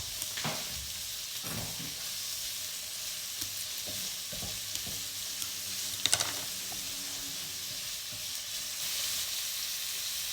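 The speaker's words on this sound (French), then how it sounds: "J'ajoute l'ail." Garlic added to chicken frying in a pan, a continuous bright sizzle with scattered stirring scrapes and light clinks, close and steady throughout.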